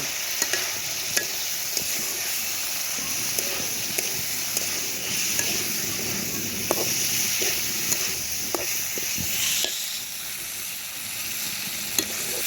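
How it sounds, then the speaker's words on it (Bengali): Fried meat being stirred into a well-cooked spiced masala in a pan, a steady loud sizzle with repeated scraping and clacking of the spatula throughout. "মশলাটা আমার ভালো করে কষানো হয়ে গেছে এখন এর মধ্যে দিয়ে দিব এই যে ভাজা মাংস"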